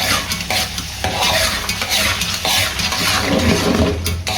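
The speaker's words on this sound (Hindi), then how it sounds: "ऑयल मिक्स करने के बाद इसको अच्छे से इसकी बुनाई करनी है इधर" Boneless chicken handi sautéing in cooking oil, loud close sizzling with vigorous repeated stirring and the scrape and clatter of a spoon against the pot, continuous and without speech.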